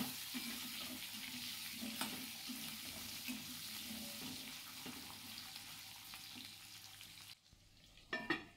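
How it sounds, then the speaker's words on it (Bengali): Potato and taro pieces fry in a pan, giving a soft, steady sizzle with occasional stirring scrapes and a small clatter near the end. "প্রথমে আলু আর কচুগুলো দিয়ে ভালো করে ভেজে নেব।"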